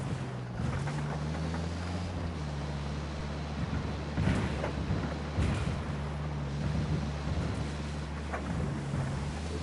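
A vehicle drives along a road in the video game Ghost Recon Wildlands, its engine a steady low drone with rushing wind and road noise, with a few shifts in pitch and faint thumps as it goes.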